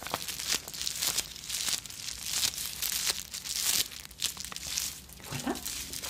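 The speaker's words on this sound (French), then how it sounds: "Je vais vous faire écouter quand même le son du papier bulle." Bubble wrap crinkled close up in a quiet indoor setting, a run of crisp crackling and crumpling bursts with small pops, steady for several seconds with no talking.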